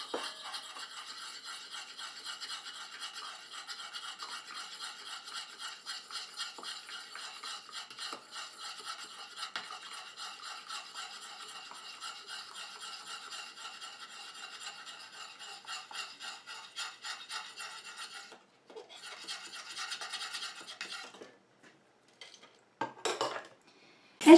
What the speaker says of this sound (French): Et je continue à mélanger comme ça jusqu'à ce que mon émulsion épaississe et refroidisse.